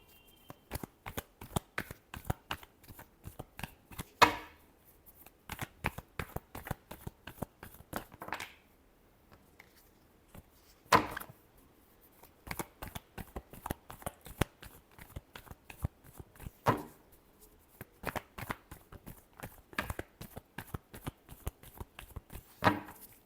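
Tarot cards being shuffled by hand in repeated bursts of crisp riffling and slapping, steady and close, with brief pauses between rounds and no talk.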